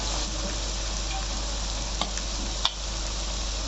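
Duck meat frying with ginger, garlic and spices gives a steady, close sizzle throughout, with a couple of brief clicks of stirring partway through.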